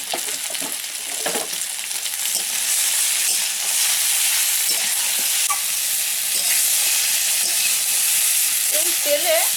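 Black cumin and other spices fry in oil for a village-style sweet-sour-spicy elephant apple (chalta) pickle, giving a steady, close, hissing sizzle that runs unbroken with faint scrapes of stirring.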